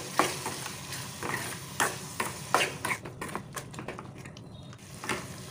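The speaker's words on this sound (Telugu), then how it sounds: "అల్లం వెల్లుల్లి పేస్ట్ 1 టేబుల్ స్పూను, కొన్ని 5 మినిట్స్ ఫ్రై చేసుకోవాలి।" A tablespoon of ginger garlic paste with salt, turmeric and chili powder fries in a pan, a close, continuous sizzle broken by repeated scraping stirs and light knocks of a utensil against the pan.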